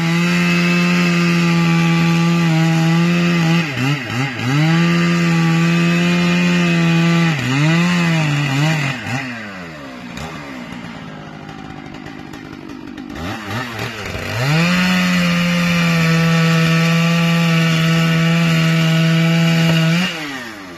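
An 880 chainsaw cuts up the top of a felled tree. The engine screams loudly and steadily, bogging down and dropping in pitch as it bites into wood, then revving back up, for a long continuous stretch.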